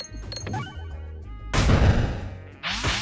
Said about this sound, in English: Please stop hitting the red bombs.